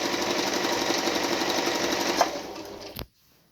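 A Brother Cecilia sewing machine runs at full speed, its needle mechanism chattering in a rapid steady rhythm close by before it stops abruptly near the end.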